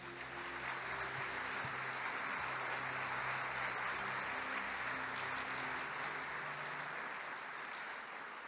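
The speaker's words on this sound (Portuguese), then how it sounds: "Aplauda o nome de Jesus." A church congregation applauds steadily for several seconds during a Portuguese-language Sunday service, a soft, even wash of clapping over low sustained background tones.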